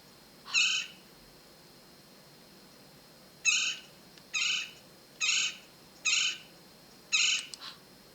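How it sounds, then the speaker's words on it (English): A Gila woodpecker gives six loud, harsh, squeaky calls: one, a pause, then five more at a steady pace. Nothing else is heard apart from faint background hiss. "what is that noisy bird? What noisy bird is in this nest? Can you tell? It is a Gila woodpecker"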